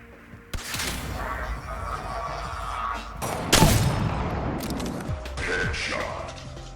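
Video game headshot effects play as a dense, loud mix of gunfire, booms, thuds and crunchy impacts across several rapid bursts, with faint voices mixed in.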